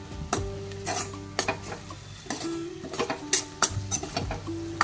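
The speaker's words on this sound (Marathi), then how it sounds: "आता 1-2 मिनिट चांगलं परतवून घेऊया।" Homemade masala spice paste sautéed in a pan for a shiny clam curry (shivlyancha rassa), with a spoon scraping and stirring in repeated strokes over a steady, close sizzle of frying.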